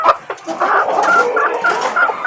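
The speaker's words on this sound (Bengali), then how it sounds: "একটা মুরগি আছে আপনাদেরকে দেখায়" A Golashila breed chicken clucks repeatedly and steadily, close by and fairly loud, with no one talking.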